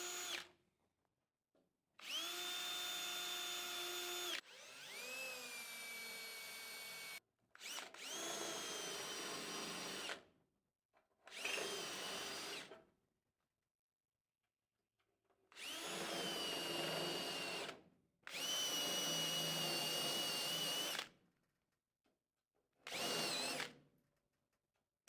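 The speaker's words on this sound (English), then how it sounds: "now it's time to drill all the little spot welds out of the door jamb" Power drill boring out spot welds in the door jamb of a Chevy Nova four-door, loud sustained whining bursts of a few seconds each, separated by silent pauses.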